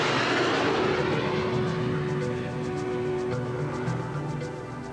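Lockheed SR-71 jet aircraft engine roaring, a loud continuous broadband rush with a steady tonal whine that slowly recedes.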